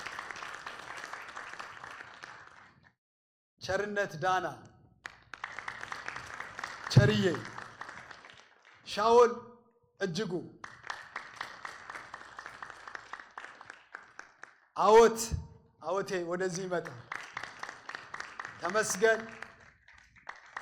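A church congregation claps in bursts of applause, separated by someone speaking over a microphone. The clapping is moderately loud and swells several times between his words.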